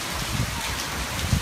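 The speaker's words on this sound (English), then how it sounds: "Especially the sound of the rain as well." Rain falls in a steady, dense hiss and patter, loud and close with no other sounds above it, over a short stretch.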